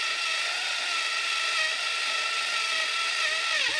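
A small homemade mini bench drilling machine's bench is driven up and down by a geared mechanism, giving a steady ratcheting, whirring mechanical drone that holds close and constant throughout, with a brief dip in pitch near the end.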